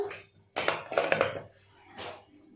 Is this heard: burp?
no